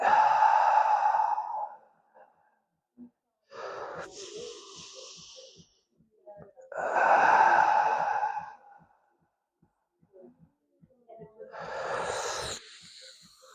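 Slow, deep breaths during a guided stretch: long breathy exhales through the mouth alternate with quieter inhales through the nose, four drawn-out cycles heard close up with no talking.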